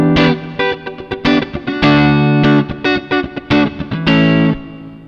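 An electric guitar played straight through a Tech 21 SansAmp FlyRig 5 pedal, direct with no amp, gives loud distorted chords and riffs with short rhythmic stabs, sustained ringing notes and light reverb, no talk.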